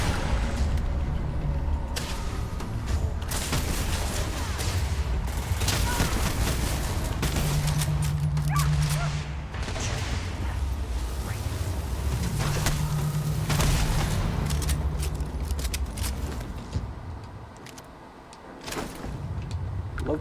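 Turrets fire in Starfield as rapid, continuous bursts of gunfire against a dense background of game combat noise, loud and sustained for most of the stretch before easing briefly and picking back up.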